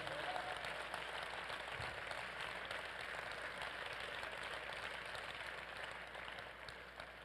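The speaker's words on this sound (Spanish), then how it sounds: "Vamos, denle el aplauso al Señor que está aquí." A church congregation applauds with dense, sustained clapping that fills the room, fairly distant and even throughout, fading slightly toward the end.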